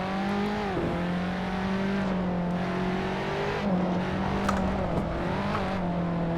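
A race car engine from the Assetto Corsa racing game drones steadily at high revs, its pitch dipping and climbing with gear shifts, a continuous loud whine with no talking.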